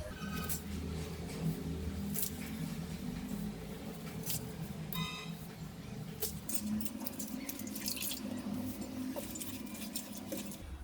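Fenugreek leaves are rinsed in water in a home kitchen, giving quiet, intermittent splashes, squishes and leafy rustles across the whole stretch.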